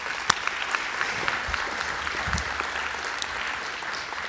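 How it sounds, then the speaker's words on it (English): Audience in a room giving a round of applause, steady clapping throughout at a constant level, with a few sharper claps standing out and no talking. "please give yourselves a round of applause"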